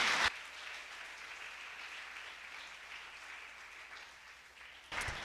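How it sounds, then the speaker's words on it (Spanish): A church congregation applauds in a steady, soft wash of clapping that stays even throughout, heard from a distance at low volume. "Y si le va a dar un aplauso al Señor,"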